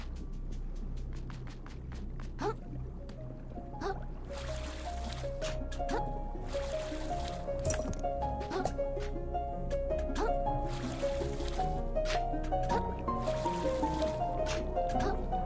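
Water splashes and trickles at a waterfall in Another Crab's Treasure, under a steady low hum, with scattered drips and plinks and brief bursts of brighter splashing throughout.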